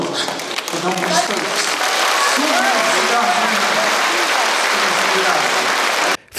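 An audience gives a sustained ovation to a performer at his farewell concert in his hometown of Krasnoyarsk, with steady, dense clapping that fills the hall for several seconds before cutting off abruptly.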